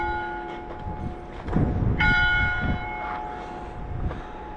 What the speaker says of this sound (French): Oh, il y a les cloches.